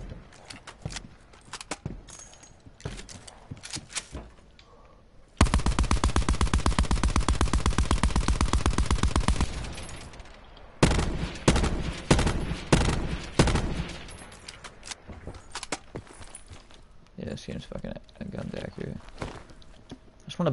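Sustained automatic gunfire in Call of Duty Black Ops 4 Blackout: a loud, dense burst of rapid shots lasting several seconds, followed by further heavy bangs and scattered shots, with quieter footsteps and game noise around it.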